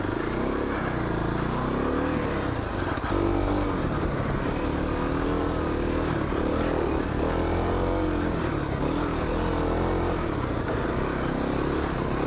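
A Kawasaki KLX 250 dirt bike ridden on single track, its engine droning loudly and continuously with rises and dips in revs and wind rush throughout.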